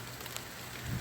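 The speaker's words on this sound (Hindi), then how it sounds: "ये देखिए छोटे छोटे ओले।" Small hailstones and rain come down in strong wind in England, making a steady broad hiss and patter with no voices.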